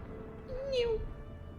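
A single short meow from a cat in a video game rises and falls over a low, steady background hum, moderately faint.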